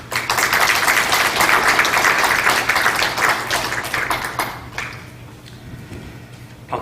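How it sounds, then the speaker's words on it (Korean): An audience at a church elders' retreat in Korea applauds to welcome a pastor. The clapping is loud and dense for several seconds, then thins to scattered claps and fades. "강종방 담임 목사님 나오실 때 박수로 맞이하겠습니다"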